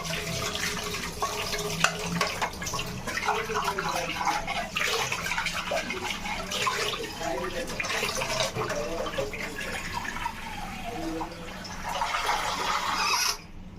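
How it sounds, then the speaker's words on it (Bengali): A pot being scrubbed and rinsed under running tap water for tea-making, a steady close wash of flowing water with rubbing and splashing throughout, no talk. "এখন আমি একে ঘষে ঘষে হালকা ধুয়ে নিচ্ছি।"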